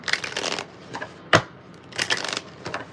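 Tarot cards being shuffled by hand in a few close bursts of crisp riffling and a sharp slap, with brief pauses between, no talking.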